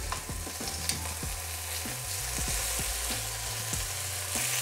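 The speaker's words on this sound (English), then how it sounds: "So as our noodles are cooking, I am going to fry up some prawns." Prawns and chicken fry in a pan, with a steady loud sizzle and crackle and the occasional scrape of stirring throughout, and no talk.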